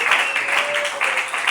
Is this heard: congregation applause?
yes